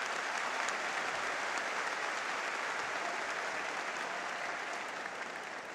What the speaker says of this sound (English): Absolutely, they both deserve a round of applause.